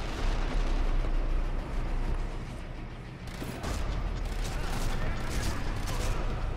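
A grenade goes off during gunfire in the Sniper Elite V2 Mittelwerk Facility level, a loud, dense, continuous roar of blasts with a brief dip near the middle before sharp bursts resume.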